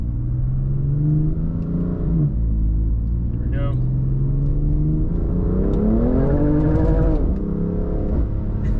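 A BMW engine in Sport Plus mode revs hard through a full-throttle pull, a loud steady rumble climbing in pitch under close in-car talk, with a brief squeal partway through.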